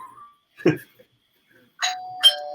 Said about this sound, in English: The doorbell rings, so she goes back from the jungle back into her room.